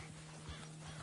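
A horse's hooves clip-clop softly at a steady walking pace over a low background hum, brief and fairly faint.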